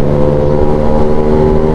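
Honda Scoopy scooter engine revving as it climbs uphill on a mountain road near Puncak, Bogor, a steady loud drone with strong low harmonics and wind rush, close and continuous.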